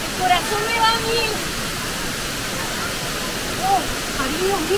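Waterfall at Grutas de Tolantongo in Hidalgo, Mexico, a steady broadband rush of falling water heard close and loud throughout, with excited voices talking over it.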